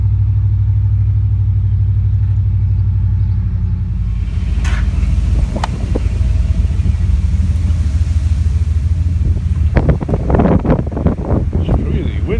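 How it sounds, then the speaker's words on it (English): Strong wind buffets the microphone outdoors on a farm, a loud continuous low rumble throughout, with a few sharp knocks and clatters toward the end. "It's really windy."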